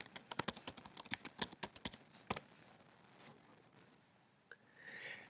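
Quick, close run of about a dozen computer keyboard keystrokes entering a password, ending with a few sparse taps and a faint click, with no talking.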